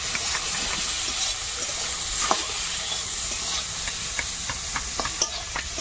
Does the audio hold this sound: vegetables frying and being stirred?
yes